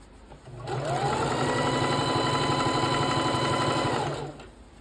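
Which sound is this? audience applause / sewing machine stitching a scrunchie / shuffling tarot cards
sewing machine stitching a scrunchie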